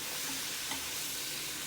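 Shrimp with fresh lemon juice being stirred in a pan for sweet honey shrimp: a soft, continuous sizzle with faint scraping, fairly quiet.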